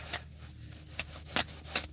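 A deck of playing cards being shuffled by hand, several quick papery riffles and rustles spaced irregularly, close and moderately loud with no talking.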